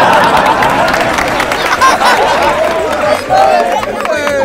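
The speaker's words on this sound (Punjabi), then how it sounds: "ਪਹਿਲੇ ਤਾੜੀਆਂ ਰੋਕ ਲੈਂਦੇ" A stage audience claps and cheers at a live Punjabi comedy show, with dense sustained applause and crowd noise filling the space, and voices mingling over it.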